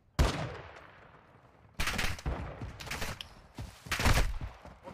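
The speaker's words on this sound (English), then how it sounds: "I'm taking effective fire!" Gunfire from the Modern Warfare 2 DMZ mode: sharp, loud bursts of automatic fire with a close opening shot, then longer rattling volleys that come in waves with only short gaps between them.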